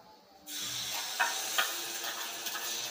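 Ground masala paste for egg curry hits hot oil in a pan and sizzles, starting abruptly and then holding a steady close hiss, with a few louder crackles and spits along the way.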